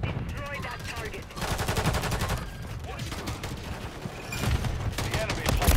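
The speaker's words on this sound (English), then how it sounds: "You guys are shooting each other?" Rapid bursts of automatic video game gunfire, steady and loud throughout, with a dense exchange of shots between players and occasional voices underneath.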